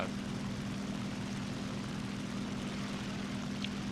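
An SB2U-2 Vindicator propeller plane in the War Thunder flight game, its engine a steady, even drone heard continuously and fairly quietly with no voices over it.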